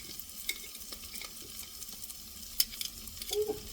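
Garlic sautés quietly in a pan for curry, a soft continuous sizzle with a few light clicks and stirring scrapes, no voices present.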